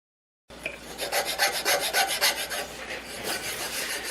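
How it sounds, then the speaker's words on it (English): A hand file rasps over wood on a guitar neck, shaving it down to the plastic in a steady run of close, rhythmic strokes after a short silent start. "to file off the rest of that wood up to the plastic"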